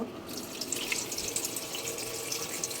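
Water runs from a kitchen tap, splashing steadily over food left to soak in a bowl, close and fairly loud, with no voices.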